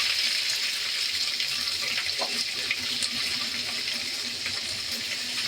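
Onions and dried red chillies sizzle in hot oil as a steady, dense hiss with scattered crackles, close and constant throughout, with no talk.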